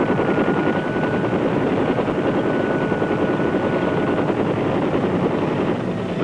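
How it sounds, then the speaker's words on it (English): Military helicopter gunships fly overhead with a steady, loud, rhythmic rotor thudding and dense engine roar that stays constant throughout, with no voices. "These choppers pack an impressive resource of firepower"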